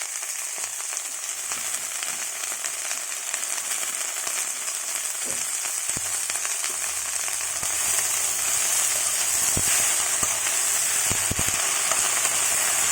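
Leaves sizzling hard in a hot pan for tamarind rice, a dense continuous crackle and hiss with occasional sharper pops and scrapes, close and steady throughout.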